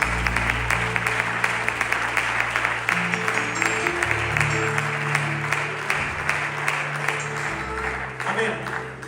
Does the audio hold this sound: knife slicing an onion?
no